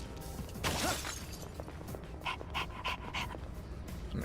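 Koro-chan, a dog in the video game Persona 3 Reload, panting in quick rhythmic huffs that come close and clear after a short burst of crashing game noise.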